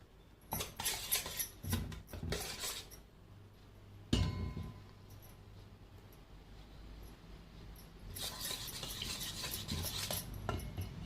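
Maida flour being stirred into a bread mixture in a bowl, with bursts of scraping and clinking from a spoon against the bowl, a sharp knock midway, and quieter pauses between, close by.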